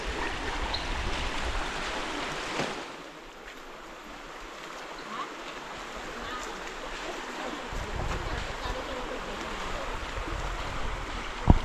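River water flowing outdoors: a steady broadband rush and wash, moderately close, dipping briefly before swelling again, with a faint knock near the end.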